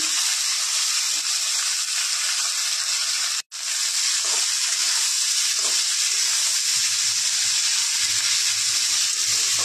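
Finely chopped bottle gourd sizzling in a hot pan, a steady loud hiss of frying that breaks off for an instant and then continues, with faint stirring underneath.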